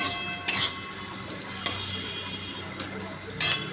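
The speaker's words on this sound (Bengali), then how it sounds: "শিম আলু ভাজা" Flat beans and potatoes fry in a pan with a soft, steady sizzle, broken by three sharp metallic clinks of a utensil against the pan as the food is stirred.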